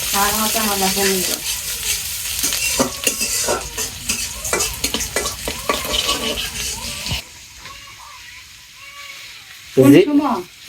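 Cumin seeds frying in hot oil for a Bengali taro fritter dish, a steady loud sizzle with stirring scrapes for about seven seconds, then quieter, with a voice speaking briefly near the end.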